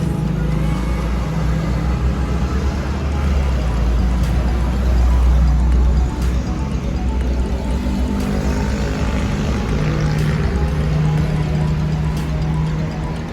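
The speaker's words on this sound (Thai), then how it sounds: "เครื่องยนต์ก็จะสตาร์ทติดนะครับ" A Honda CR-V engine idling after a push-button start, heard as a continuous low, steady rumble with a constant hum close by and faint ticks above it.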